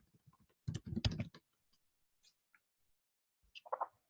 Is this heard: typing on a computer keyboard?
yes